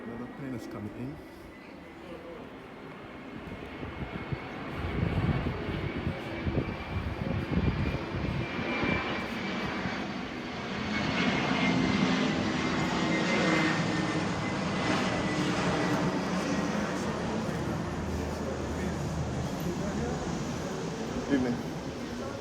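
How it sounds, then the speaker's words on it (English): An airplane coming in to land over Christ Church Parish in Barbados makes a loud engine roar that swells and rumbles steadily overhead, then lingers as it passes. "Another plane is coming in."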